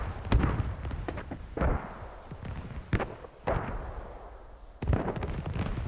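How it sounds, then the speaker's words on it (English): Grad rocket artillery strikes in a combat zone land as five sharp, heavy booms at uneven intervals. Each blast is followed by a rolling rumble, and there is no talk. "You hear the rockets overhead as they impact."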